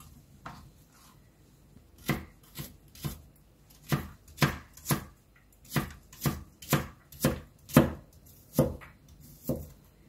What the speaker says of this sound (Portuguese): Agora vamos cortar a cenoura em quadradinhos bem pequenos para poder cozinhar junto com a carne.